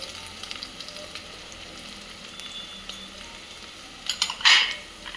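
Garlic and grated coconut hitting hot oil in a pan for a Maharashtrian kulith (horse gram) curry, a faint sizzle that flares into a loud, bright hiss near the end, with light clinks of a utensil.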